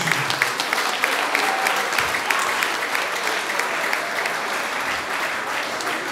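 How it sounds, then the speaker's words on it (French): Audience applause at a cultural evening of dance and song: dense, steady clapping from a large crowd that holds evenly for about six seconds with no break. "Est-ce que nous pouvons l'applaudir? Nous pouvons applaudir."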